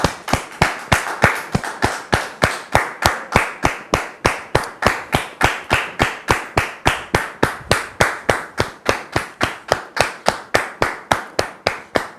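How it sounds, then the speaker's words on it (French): Studio audience on a French television talk show applauds to welcome a guest onto the set, a dense, steady burst of clapping that holds evenly for about twelve seconds with no voices over it. "on le reçoit maintenant sous vos applaudissements"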